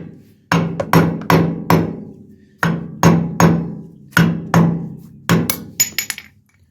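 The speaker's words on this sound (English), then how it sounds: "So just tapping it around with the hammer" Sharp metallic taps from a hammer striking a trailer wheel hub cap, about a dozen hits in uneven bursts, each ringing briefly before fading.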